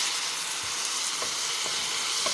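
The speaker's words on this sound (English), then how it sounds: "So Mum's giving it a stir." Mango chicken curry sizzles and fries in a pan while being stirred, a dense, even hiss throughout with soft scraping strokes of a utensil, close and steady.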